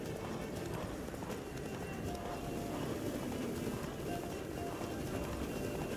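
A horse gallops in The Witcher 3, its hooves drumming in a steady, dense clip-clop rhythm that fills the whole stretch at close range over a constant background wash.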